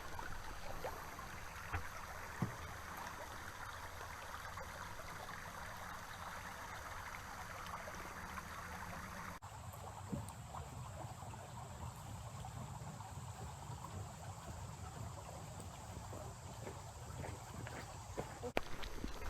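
A creek flowing at the bottom of a wooded ridge at Whipple Dam State Park, a faint steady trickling wash with a few soft knocks, heard alone.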